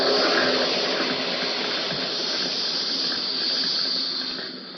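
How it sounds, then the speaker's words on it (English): A carbon dioxide fire extinguisher discharges in one steady, loud hissing blast of gas that holds for several seconds before easing off slightly at the end, with no voices. "That's a carbon dioxide extinguisher."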